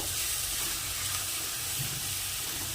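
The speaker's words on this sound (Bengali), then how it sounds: "এবার আমি এর মধ্যে হালকা একটু জল দিয়ে এটাকে আবার সুন্দরভাবে মশলাটাকে ভালোভাবে কষিয়ে নেব" Mutton masala sizzles and hisses steadily in a pan after a splash of water goes in, a constant bright frying noise with faint low bubbling, close and uninterrupted.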